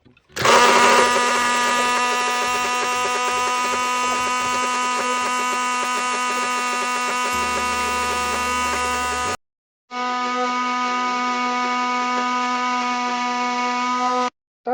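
A blender whisks a dressing of sunflower oil, honey or powdered sugar and salt, running steadily and loudly with a strong motor whine, stopping briefly near the ninth second and then restarting.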